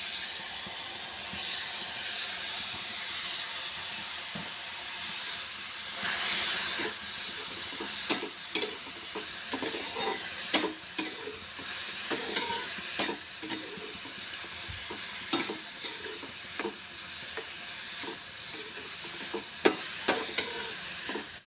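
Onion and tomato for bhindi masala sauté in a pan, a faint steady hiss and sizzle broken by irregular clinks and scrapes of a stirring spoon.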